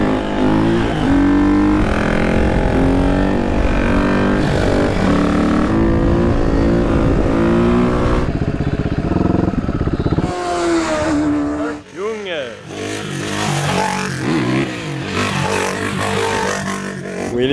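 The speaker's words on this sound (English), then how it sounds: "We're gonna go for some stunt riding in the parking lot, I think." Supermoto motorcycles revving in a parking lot during stunt riding, a loud, continuous engine roar with rising and falling pitch and sharp throttle swells, close by, with voices talking and shouting over it.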